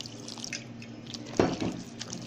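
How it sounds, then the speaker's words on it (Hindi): Water poured into gram flour batter while making pakoras for kadhi pakora, heard as a brief close splash and trickle in a quiet kitchen. "अभी थोड़ा सा और पानी ऐड करना है।"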